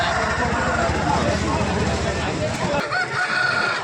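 Country chickens and roosters at the Gokavaram market, with crowing and clucking mixed into a busy, steady crowd din as people bargain nearby.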